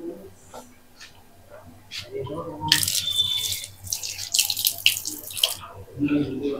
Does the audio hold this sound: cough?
no